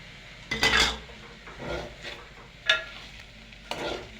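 A spoon stirs lemon juice into washed poha in a pot, giving a few soft scraping and clinking strokes, quiet and close, with short pauses between them.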